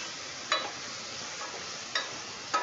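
Onions browning in a hot pan give a soft, steady sizzle, broken by a few brief stirring scrapes. No one speaks.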